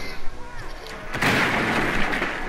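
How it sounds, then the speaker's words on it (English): A grenade explodes in the Rainbow Six Siege video game, a loud sudden blast that swells into a sustained roaring rumble after some muffled game noise. "Oh, I threw a grenade in there."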